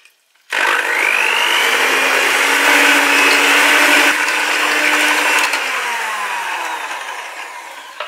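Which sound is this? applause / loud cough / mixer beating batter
mixer beating batter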